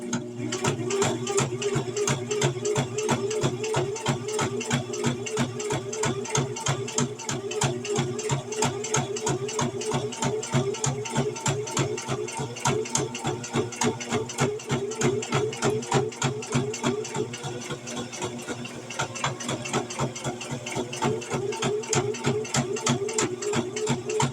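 A sewing machine stitches a fabric coffee cup cozy in one long, continuous run, its needle pounding out a fast, steady mechanical rhythm close up for the whole stretch.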